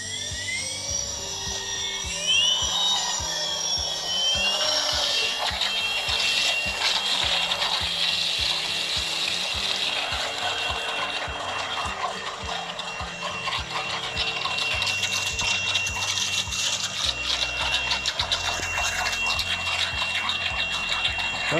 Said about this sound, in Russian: Как работают наши моторы даже в воде